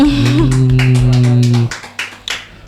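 A small group in an Indonesian podcast studio claps in quick bursts over a sustained voiced tone, then the claps thin out into a few scattered smacks near the end.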